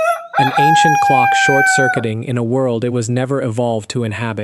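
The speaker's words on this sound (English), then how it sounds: "When you hear a rooster crow in the dead of midnight outside a modern poultry farm" A rooster gives one loud, drawn-out crow close by, its call rising and then holding, after which someone talks over the quiet that follows.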